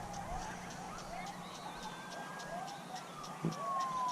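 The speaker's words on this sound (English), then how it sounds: "I hear coyotes responding to sirens." Faint, distant emergency sirens wailing across an open rural area while a pack of coyotes howls and yips in response, their sounds blending into a thin, wavering chorus.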